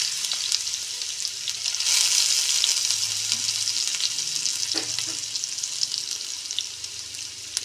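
Mustard seeds splutter in hot oil in a pan, giving a continuous bright crackling sizzle with scattered sharper pops and a few soft clinks.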